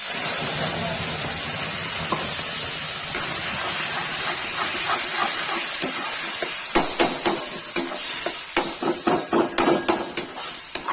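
Tomato, onion and garlic sizzle in hot oil for a bitter gourd and tomato curry: a steady, close frying hiss runs throughout, with scattered spoon-like clicks and stirring knocks toward the end.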